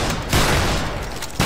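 A musket volley crashes out in the video game Battle Grounds III, a loud, dense burst of many shots fired together, with a second sharp crack at the end of the brief moment.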